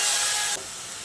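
Tomato paste dropped into frying onions, ginger and garlic for a bhindi masala, a loud hissing sizzle that suddenly drops to a softer crackle, no talk.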